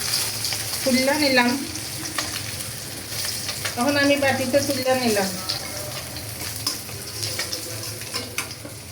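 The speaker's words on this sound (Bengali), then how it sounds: "বাদ আরেক খোলা মাছ আছে, এই মাছটিও ভাজব।" Fish sizzles steadily as it fries in hot oil in a kitchen, a continuous crackling hiss underneath a voice speaking at intervals.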